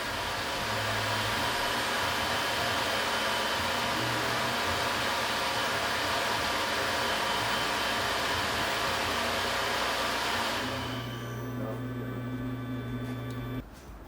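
A Tormach 770 CNC mill runs with a steady, loud mechanical whir and hum throughout, shifting to a lower tone with a sustained drone near the end before tapering off; no talking.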